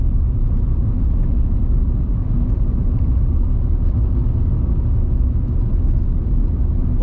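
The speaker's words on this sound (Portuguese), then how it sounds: "Vem então, carro subindo." A car climbing a curving rural highway in Bahia, Brazil, its steady loud engine and tire rumble filling the whole stretch without a break and without any talking.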